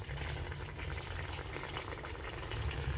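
Water thinned with ground poppy seed, cashew and raisin paste bubbles at a steady boil in a cooking pan, a soft continuous simmering hiss with no voices.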